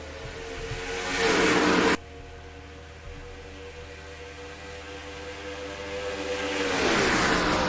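Race trucks in the NASCAR Racing 2003 simulation roar up to speed at the green flag on Charlotte Motor Speedway, a revving engine swell that cuts away briefly, then builds again into a rising whoosh.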